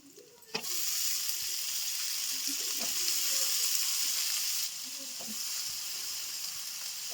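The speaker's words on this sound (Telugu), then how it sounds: "రొయ్యలు రెండు నిమిషాలు వేగాలండి వేగినాక ఇప్పుడు వంకాయలు వేసుకుందాం" Prawns and brinjal fry in a pan with a steady, loud sizzle, broken by a sharp clatter near the start and a few soft stirring knocks; the hiss drops slightly in level partway through and carries on alone.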